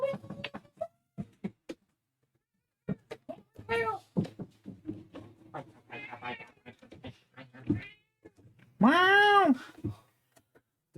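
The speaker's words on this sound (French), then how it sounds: "Qu'est-ce qu'il râle, hein, ce chat?" A cat meows and complains repeatedly, with a loud drawn-out yowl near the end, between bursts of nearby talk and handling noises.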